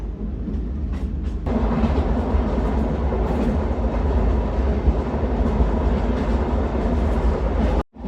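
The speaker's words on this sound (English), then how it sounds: "on some stretches the train had to slow down" A narrow gauge train in Sweden rumbles steadily along the tracks, with continuous rolling and rattling of the cars that stays loud throughout, then cuts off abruptly near the end.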